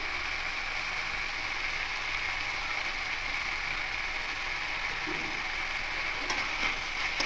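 Boiled banana flower sizzles as it is sautéed with spices and salt in a pan, a steady close frying hiss with faint scraping throughout and no talking.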